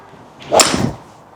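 A fairway wood, a small Core head model, strikes a golf ball with a single sharp, solid crack followed by a brief whooshing tail, close and clear with no talking.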